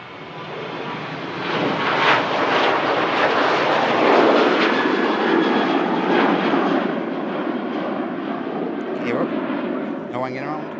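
Thirteen-year-old jet, registration ending Kilo Tango, rolling for departure from Manchester Airport to the Canaries, a loud rumbling engine roar with crackling pulses swelling and fading, and a voice speaking briefly near the end.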